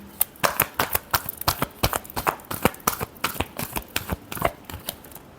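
Tarot cards being shuffled by hand, a rapid run of crisp riffling flicks and taps close up, many quick irregular bursts with no talk.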